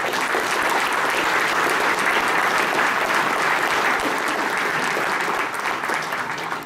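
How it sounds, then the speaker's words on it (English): Sustained, dense applause from a large crowd, loud and even throughout with no voices standing out. "please give yourselves a very hearty round of applause for being awesome"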